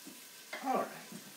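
Onion sautéing in hot oil in a pan for stuffed cabbage, a brief soft sizzle that swells for a moment and then settles, heard close and faint.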